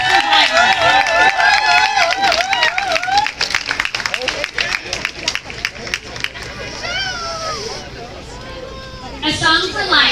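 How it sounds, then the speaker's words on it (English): Crowd at an outdoor Wear Orange march across the Brooklyn Bridge claps and cheers for gun-violence survivors, dense applause with whoops and shouts rising over nearby voices, then thinning into scattered talk. "Let's do another round of applause for Natasha and all the survivors."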